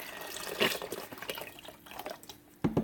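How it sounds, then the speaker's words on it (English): Chicken stock is poured into an Instant Pot, a splashing liquid stream broken by a few louder sloshes and drips, close by, with no one talking. "I'm going to put the rest of the stock in here."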